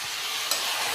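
Eggplant, okra and carrot pieces stirred in a hot pan for sambar, a steady close sizzle with soft scraping, alone and without talk, lasting under a second.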